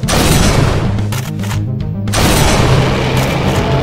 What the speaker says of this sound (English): Hunting rifle. Alright, open fire. Aim and fire.